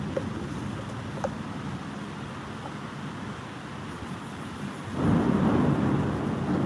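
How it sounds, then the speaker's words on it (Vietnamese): Heavy rain and thunder during a storm, a steady low roar and rumble that swells noticeably louder toward the end, heard alone without talk. "Mưa to quá, sấm chớp ùn ùn luôn."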